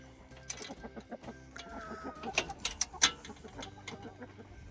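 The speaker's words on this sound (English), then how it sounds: "Truffles chases the chicken, stirring up a flurry of feathers." A chicken clucks and squawks in short, irregular bursts while chased by a dog, with sharp flurries of activity peaking toward the middle.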